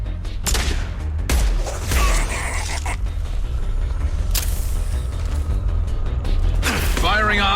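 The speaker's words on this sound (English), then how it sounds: "Firing a high-impact shot" Gunshots in the sci-fi shooter Mass Effect 2, fired during the Horizon mission: several loud, punchy shots spaced a second or two apart over a rumbling game background, with someone speaking between them.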